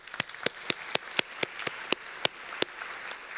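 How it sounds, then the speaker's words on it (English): Sparse applause from a small conference audience at a video conferencing research talk, about a dozen separate claps spread irregularly across a few seconds, fairly distant and thin rather than a full ovation. "let's give another round of applause"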